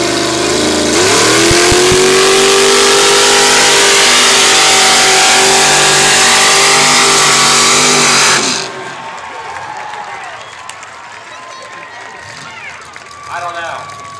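Red Chevy S10 mud truck roaring at full throttle, a loud sustained revving engine run that cuts off abruptly, leaving quieter crowd noise and distant engine sounds behind.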